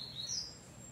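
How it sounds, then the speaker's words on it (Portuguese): Coleiro pardo songbirds, a brown seedeater kept and trained on a perch, chirp faintly over a steady low background hum in a short one-second stretch. "quatro, cinco passarinhos cantando, quatro cantando e um devagar"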